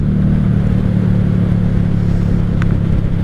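A 1995 Honda Shadow VLX 600 (VT600CD) motorcycle riding along, its engine a steady, loud low rumble heard from the rider's position, mixed with continuous road and wind noise.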